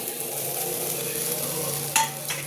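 Masala frying in a small amount of hot oil in a pan while being stirred, a steady close sizzle with scraping strokes and a brief louder clatter near the end, no voices.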